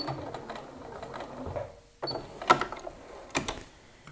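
A sewing machine stitches jeans front pockets in short whirring runs, stopping and restarting for a backstitch, with a few sharp clicks between bursts.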